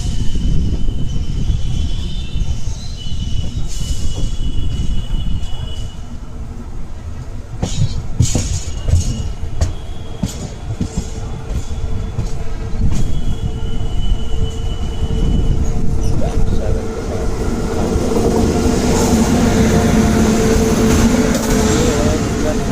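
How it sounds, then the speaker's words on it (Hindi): An Indian railway train rolls past at a crossing, a loud continuous rumble of wheels and carriages with clacking rail joints and brief squeals, growing denser toward the end; no one speaks. "सामने से कोई क्रॉसिंग भी होने वाली है ट्रेन की।"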